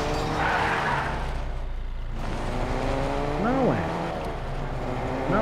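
Car driving in Fortnite, a steady engine drone running through the whole stretch with a rising tire-squeal sweep near the middle, heard under players talking.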